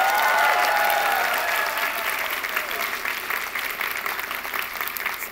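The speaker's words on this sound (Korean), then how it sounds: "많은 격려의 박수 부탁드립니다" A seated audience at a talk by a former boxing champion bursts into applause, loud and full at first, then thinning slightly but continuing as a steady broad wash of clapping.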